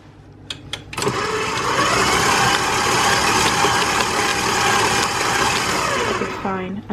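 A food processor whirs steadily for several seconds, mixing banana bread batter with pecans. A couple of clicks come just before it starts, and it sounds close and loud.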